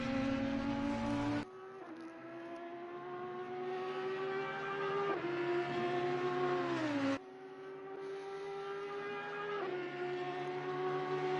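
GT3 race cars in the Assetto Corsa Competizione sim racing game, a loud continuous high-revving engine whine that drops sharply at gear shifts and climbs again, repeating across the stretch.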